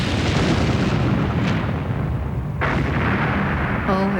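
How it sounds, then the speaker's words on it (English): A massive, rumbling torpedo explosion strikes the ocean liner Lusitania just behind the bridge, filling the air with a dense, roaring boom and a long crackling blast tail that swells again midway, loud and close, no voices. "The torpedo strikes the ship just behind the bridge."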